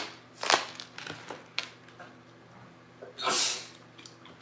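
A sharp sneeze bursts out near the start, then a second, breathier sneeze or snort follows a few seconds later, both close and fairly loud over quiet background.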